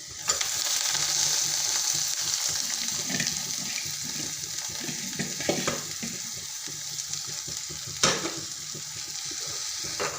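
Finely chopped green amaranth leaves stir-fried in a pan, a continuous close sizzle with soft scraping and stirring strokes and a sharper clack near the end.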